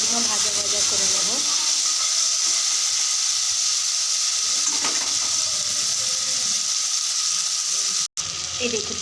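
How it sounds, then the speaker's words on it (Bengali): Onions sizzle in a pan with a continuous frying hiss and a few faint stirring clatters, with a brief dropout near the end. "ভালোভাবে পেঁয়াজগুলো ভাজা ভাজা করে নেব।"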